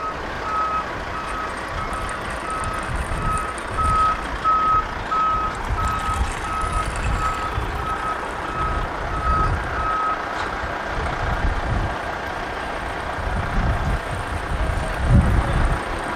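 A truck arrives at a rural property and backs up, its reversing alarm beeping at a steady, even pace over a low engine rumble and gusty wind noise, with the beeps stopping partway through.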